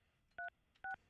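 Two short touch-tone keypad beeps from a telephone being dialed, each dual-pitched tone crisp and evenly spaced about half a second apart, with no talking.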